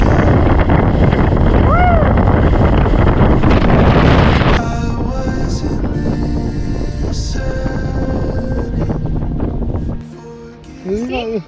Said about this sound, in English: Wind is coming!